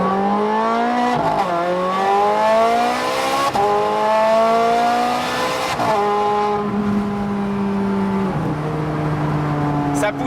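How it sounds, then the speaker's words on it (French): A Novitec Rosso Ferrari F430 Scuderia Spider 16M V8 engine revs hard and climbs through several gears, each upshift dropping the pitch before the loud, sustained roar builds again. "c'est entendre le bruit du V8"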